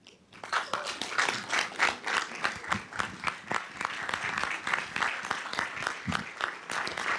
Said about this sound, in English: So would you join me first in giving them a round of applause?